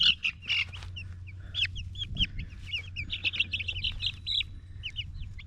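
Baby chicks on their first day out of the brooder cheep in quick, high, repeated chirps, some overlapping, over a low steady hum nearby.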